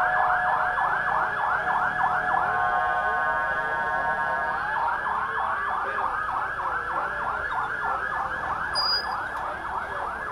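Ambulance sirens wail during a national strike protest at the Carlos Castillo Armas bridge, a loud continuous rising-and-falling yelp pattern that shifts briefly to a steady tone midway before resuming its rapid cycling, nearby and unbroken.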